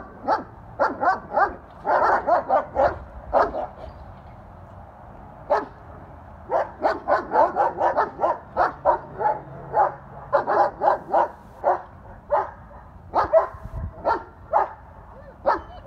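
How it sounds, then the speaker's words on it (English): Dogs bark repeatedly in sharp, loud bursts with brief yips, clustered in rapid runs and short pauses, close by, as the animals scuffle with each other. "Come out and get them dogs off each other right quick."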